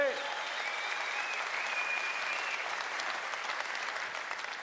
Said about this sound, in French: Vous pouvez les applaudir, oui.